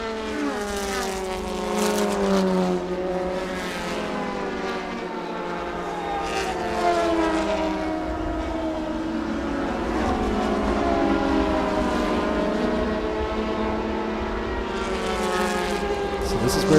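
Race cars at Watkins Glen SpeedTour scream through the bus stop chicane, engine notes sweeping up and down in pitch as several cars pass in close succession, loud and overlapping.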